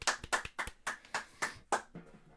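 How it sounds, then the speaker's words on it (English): Clapping from an audience at a show, a string of about ten sharp, distinct claps in an uneven rhythm, close and fairly quiet with no talking over it. "Give her an applause as she leaves, everybody."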